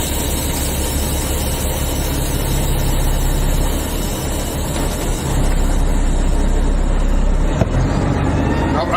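Heavy truck with an 18-speed gearbox running in fifth gear, a constant deep engine rumble heard from the cab, steady and loud with a faint whine and a small knock near the end.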